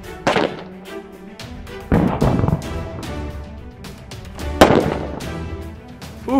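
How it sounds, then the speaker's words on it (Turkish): Firecrackers burst beneath a tin can outdoors: three sharp, loud bangs spaced a couple of seconds apart, each with a short rattling tail. There is no talking. "Arkadaşlar efsane bir patlama oldu."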